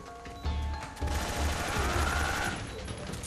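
Gunfire in Metal Gear Solid 3, a rapid burst of shots rattling over a sustained low rumble, moderately loud, with a few separate thumps before it.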